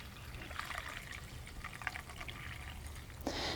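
Water trickles and pours softly into a vase holding a flower arrangement of coleus and petunias, a quiet, steady stream with no talking.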